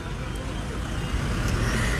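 Road traffic rumbles at the Bikram Chowk junction, a steady low wash of passing cars and heavier vehicles with a couple of faint higher sounds mixed in, continuous and moderately distant.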